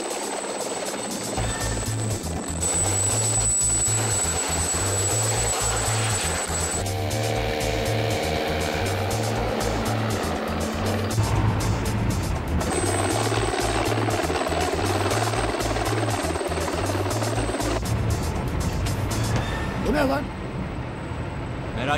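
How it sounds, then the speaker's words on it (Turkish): Loud, pulsing traffic helicopter rotor thumps hold steady throughout as it flies overhead, with a high whine above and voices talking over it. "Trafik helikopteri sadece."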